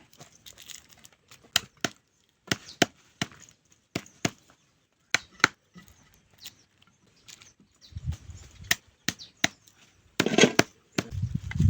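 Garlic being chopped with a knife on a board for a fish dish, sharp separate knocks in uneven bursts, close and fairly loud, with a louder rustle and thump near the end.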